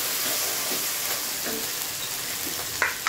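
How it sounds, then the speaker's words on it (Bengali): Onion with ginger-garlic paste and whole spices (cinnamon, cardamom, cloves) fries loudly in a pan for cooking goose meat, a dense close sizzle broken by a few spoon scrapes. "আমি কিছুক্ষণ পেঁয়াজের সাথে আদা রসুনটাও ভেজে নিই"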